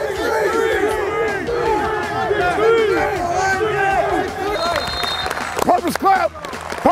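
A group of Gopher football players at a 2017 spring practice deliver a unison purpose clap amid loud crowd-like shouting and chanting, with a few sharp claps standing out near the end.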